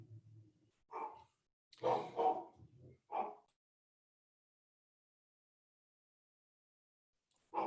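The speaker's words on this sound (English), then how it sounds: "my dog's is barking again" A dog barking indoors, a handful of short barks and yips spread over the first few seconds, then quiet, with one more bark at the end.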